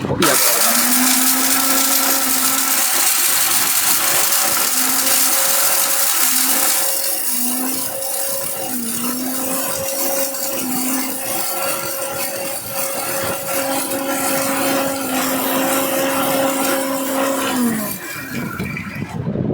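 An electric steel-bodied blender grinds cinnamon and cardamom into a paste, a loud continuous whirring roar with a rising and falling motor pitch that runs for most of the duration before cutting off near the end.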